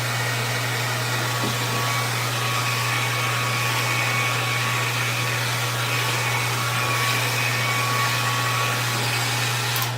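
A hair dryer running on warm at high speed, giving a loud, steady blowing roar with a constant motor hum that stays close and unbroken throughout, with no voices.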